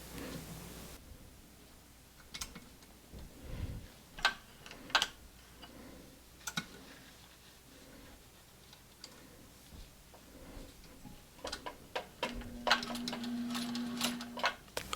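A home sewing machine stitching a quarter-inch seam on a reversible fabric mask, close and fairly soft, running in short bursts of rapid needle ticking with pauses between them.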